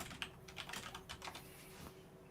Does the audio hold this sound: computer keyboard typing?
yes